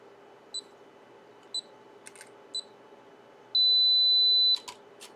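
A Fujifilm camera with a GF32-64 zoom lens counts down on its self-timer with three spaced beeps, then a long continuous tone, ending in crisp mechanical shutter clicks, all close and clear in a quiet room.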